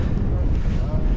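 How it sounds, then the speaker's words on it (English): Wind gusting across a foggy hillside, a loud continuous buffeting roar that rumbles against the microphone throughout, with no clear voices. "It's not absolutely chucking it down, but it is quite windy and very foggy."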